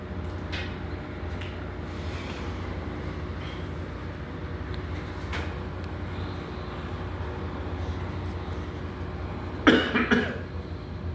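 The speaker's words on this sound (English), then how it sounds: "Sorry about my cough." A single harsh cough near the end, close and fairly loud, after a long stretch of steady low rumbling background noise.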